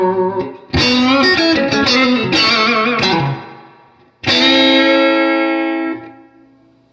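Clean electric guitar played straight into a Super Reverb amp, with a loud run of picked notes followed by a pause and then a sustained chord that slowly decays, with no voices.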